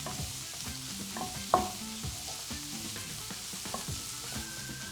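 Capsicum and garlic fry in a pan, a soft continuous sizzle broken by repeated scraping and clinking strokes of a spoon stirring, with one sharper knock partway through.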